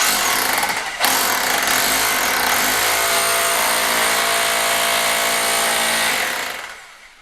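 A hammer drill chisels out tiles from a thick stone wall in an old Spanish farmhouse under renovation, a loud, continuous rattling clatter that starts after a sharp hit, holds steady up close for several seconds, then winds down.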